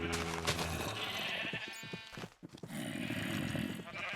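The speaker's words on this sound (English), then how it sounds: "Oops. I did not mean to kill that sheep." A Minecraft sheep bleats as it is hurt in the video game, a loud wavering cry with a brief break in the middle before a second drawn-out bleat, heard alone without talk.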